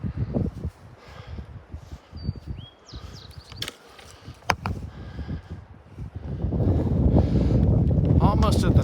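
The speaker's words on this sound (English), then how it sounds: "Back in a pretty cold wind" Cold wind gusting across a mountain saddle on the Pacific Crest Trail near Sierra City, rumbling against the microphone and rising to a steady, loud roar in the final seconds, with footsteps and rustling beneath.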